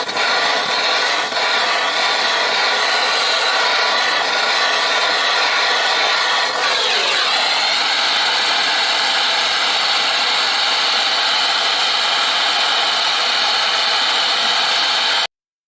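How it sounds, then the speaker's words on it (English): A steady, loud high-pitched whine of an angle grinder cutting metal on a Jaguar X-Type diesel's rear wheel bearing runs throughout, with a shift in pitch partway through as it bites in. "So out comes the angle grinder."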